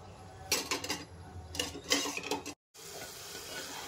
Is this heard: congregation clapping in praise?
no